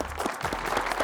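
Brief, faint applause from a small group at a cooking event, praising a first-time samosa; only about a second of light clapping.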